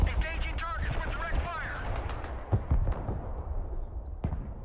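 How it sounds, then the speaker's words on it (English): Artillery barrages in the Broken Arrow war game, several heavy booms and crackling blasts rolling over one another at mid distance, with someone talking throughout. "They seem to be wasting that artillery here."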